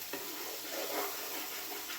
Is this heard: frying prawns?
yes